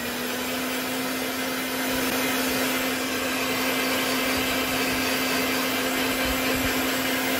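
A heat gun blows steadily to heat-set paint on a fishing lure, a close, constant whooshing roar with a fixed motor hum and no talking.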